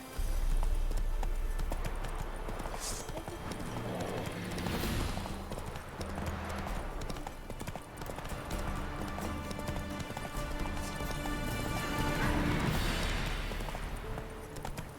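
A horse gallops in The Witcher 3 video game, its hooves a steady, rapid clip-clop rhythm held at a moderate level throughout, with faint ambient sounds underneath.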